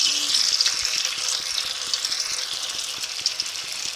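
Batter-coated spiny gourd pieces fry in hot oil, giving a dense, close crackling sizzle with rapid popping bubbles that holds steady from start to end.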